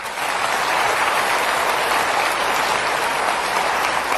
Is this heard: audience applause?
yes